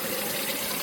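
Water pours steadily from a badly leaking water pump on a Chrysler 300C, a continuous splashing gush heard up close without any talking over it.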